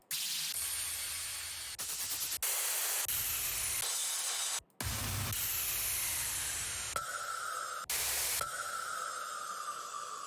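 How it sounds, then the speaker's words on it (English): Bursts of white noise from a sample pack, a steady broadband hiss cut into sections with abrupt starts and stops, some segments filtered brighter or darker and one swept tone. "I always use the sample pack for my white noise"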